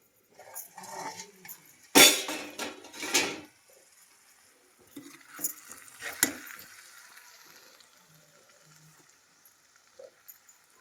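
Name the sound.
onions, green chilies, tomatoes and coconut frying in a pan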